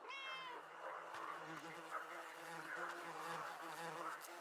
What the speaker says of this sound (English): I don't like this ominous buzzing.